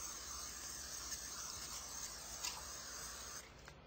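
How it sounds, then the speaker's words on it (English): Nonstick cooking spray is sprayed onto a turkey as a steady aerosol hiss that lasts several seconds, close and fairly even, tapering off at the end. "I'm just going to give it a spray of nonstick spray."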